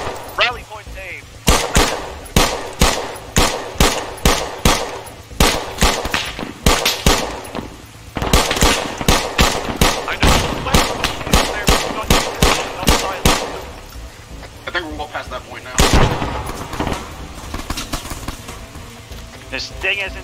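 Gunfire and grenade launcher shots ring out in an Arma 3 co-op battle: loud, dense bursts of automatic fire and heavy reports rattle almost continuously for twenty seconds, with only brief lulls.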